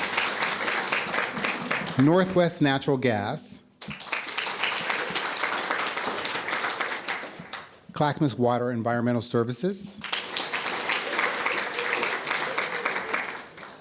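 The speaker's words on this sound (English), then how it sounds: "So you guys can clap for them." Audience at a county forum claps steadily for event sponsors, a continuous crowd applause running under a speaker's amplified voice reading names, with a couple of brief pauses.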